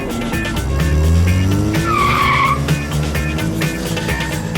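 A Ford Transit van revs hard and skids away, tyres squealing loudly in a sharp burst over the roaring engine, close and dominant with no talk.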